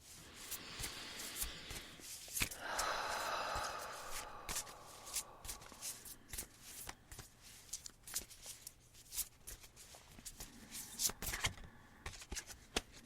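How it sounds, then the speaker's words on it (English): A deck of colourful cards is shuffled close up before a card is drawn, giving a long stretch of soft riffling, flicking and tapping, with a denser riffle burst early on and scattered clicks afterwards. "So I'm going to just begin to shuffle the deck here and draw a card"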